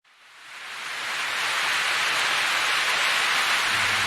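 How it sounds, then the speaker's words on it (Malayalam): Steady, dense rain hisses outdoors, building over the first second into a loud, even wash of broadband noise with no break and no voices. "ഇവിടെ പുറത്ത് നല്ല മഴയാണ് കേട്ടോ"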